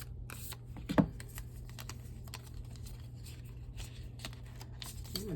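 A deck of oracle cards is shuffled close by, with soft riffling and tapping patters throughout and one sharper knock near the start, quiet and alone.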